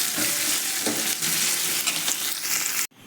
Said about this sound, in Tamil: இப்போ கொஞ்சம் கொத்தமல்லியும் கொஞ்சம் கருவேப்பிலையும் போட்டு நல்லா வதக்கணும்.